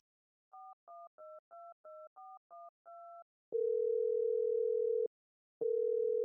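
A telephone sounds a run of short DTMF keypad beeps while a number is dialed, followed by long steady ringback tones separated by a pause, clear and alone.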